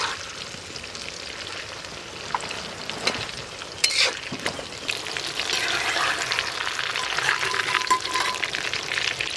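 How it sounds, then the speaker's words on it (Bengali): Small eggplant pieces fry in hot oil for a Bengali fish curry, giving a steady, close sizzle with scattered crackles that swells louder toward the end, with no talking. "এই দেখুন বেগুন হালকা করে ভেজে নিয়েছি"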